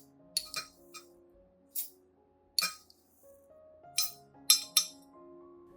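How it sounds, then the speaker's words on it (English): Scattered clinks and ticks of rice grains dropping into a glass cup, several quick bursts separated by short pauses, quiet and close. "Add 5 teaspoons of rice into a clean glass cup."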